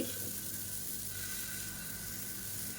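Uthappam batter sizzling on a hot pan, a steady soft hiss running evenly throughout, close but fairly quiet with no voices.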